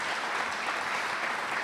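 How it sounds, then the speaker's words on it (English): An audience at a 2016 bishops' dialogue conference keynote gives a steady round of applause: continuous, even clapping from a large room, moderately distant and unbroken. "Give the dream a round of applause"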